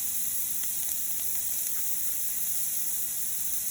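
Chopped onions sauté in a dry pan with no oil for an okra dish, giving a steady, faint hiss and sizzle throughout with no voices.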